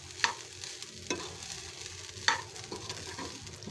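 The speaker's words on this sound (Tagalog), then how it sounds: "Ginamit na po natin yung ating bagong kawali. Sige, nagluto po tayo ulit ng hotdog" Hotdogs frying in a new pan (kawali), a steady crackling sizzle with a few sharper pops and stirring clicks, close and moderately loud, with no talk.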